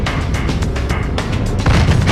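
A tank gun fires during a tank biathlon, heavy booms and dense rumble over a loud noisy field, with a stronger thud near the end.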